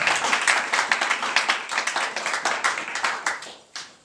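A church congregation claps together in a steady, quick rhythm of crisp, even hand claps that carries on throughout before fading briefly near the end.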